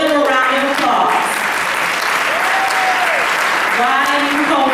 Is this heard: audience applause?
yes